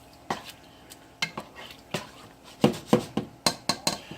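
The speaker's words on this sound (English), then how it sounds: "So, let's stir that around. Get that sauce going." A spoon stirs sauce in a cooking pot during home meal prep, giving a run of about a dozen close, sharp clinks and scrapes against the metal in an uneven rhythm with no talking.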